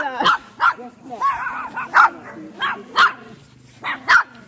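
A Rottweiler on a farm in Jamaica gives a run of about seven sharp, loud barks at close range, evenly spaced over four and a half seconds, with some whimpering tones between them.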